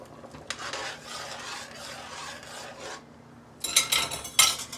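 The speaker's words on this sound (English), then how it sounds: "I stir it continuously" A spoon scrapes and rasps around a pot of gumbo in steady strokes, then a few sharper metallic clinks of utensil against the pot.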